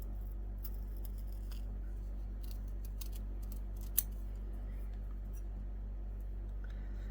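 Quiet, irregular snips of scissors cutting fabric, close but soft, over a steady low electrical hum.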